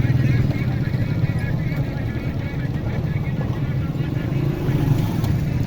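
Motorcycles move through a busy market street in Mianwali, Pakistan, producing a steady, close engine drone that barely changes, with people talking in the street.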